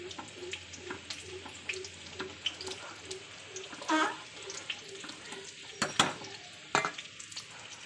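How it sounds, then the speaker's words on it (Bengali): Potatoes fry in a pan with a soft ongoing sizzle, broken by spatula scrapes, clinks and taps at close range. "আলু ভাজা হয়ে গেছে"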